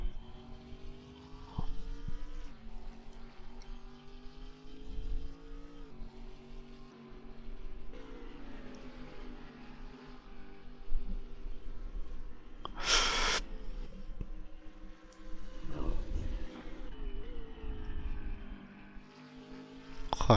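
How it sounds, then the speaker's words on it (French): Alpine race car engine in Assetto Corsa racing at Autodrom Most, a moderate engine drone with repeated rises and drops in pitch through gear changes and a brief sharp burst midway, no voices. "j'adore le bruit de l'Alpine"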